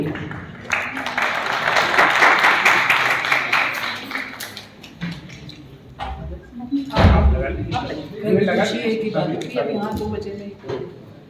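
An audience at a writers' day event in Lekhak Gaon applauds in a burst of clapping near the start, and a voice then speaks over the room as the clapping fades.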